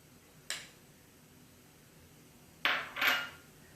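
A spoon stirs red and yellow food colouring in a bowl, giving a single light clink followed later by two sharper, louder clinks close together in a quiet kitchen.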